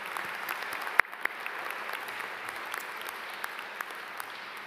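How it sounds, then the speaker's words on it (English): Steady applause from a large audience at the Nicholas School of the Environment's 2021 commencement, honoring the faculty; a dense, even wash of clapping runs throughout with a couple of sharper nearby claps. "So again, another round of applause for all of our faculty."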